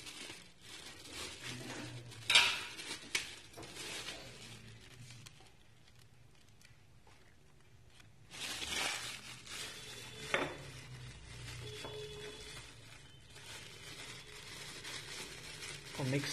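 Spices including camphor and ajwain are tipped into a jar, giving a few close clinks and rattles of dry bits against glass, with quieter rustling handling in between.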